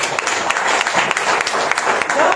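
An audience claps to welcome new members at a gathering, a dense burst of hand-clapping that holds steady for a couple of seconds, close and loud, with a voice speaking over it.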